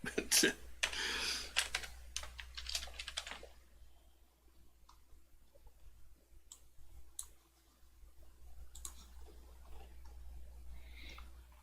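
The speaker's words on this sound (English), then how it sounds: "I just didn't want to type. Still have to anyway." Quiet keyboard typing at a computer: a quick flurry of clicking keystrokes at first, then sparse, faint isolated taps over a low steady hum.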